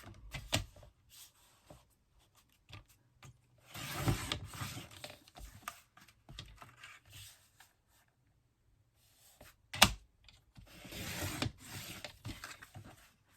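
Paper strips being cut from a 12x12 paper pad, heard as a few short scraping and slicing strokes separated by quiet pauses, with a louder burst near the end.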